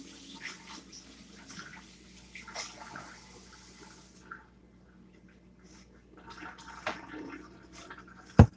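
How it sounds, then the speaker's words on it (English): A spoon is rinsed under running water from a kitchen tap during Christmas cookie baking. Soft splashing and trickling comes in uneven bursts, with a sharp clink of metal near the end. "I gotta rinse off the spoon."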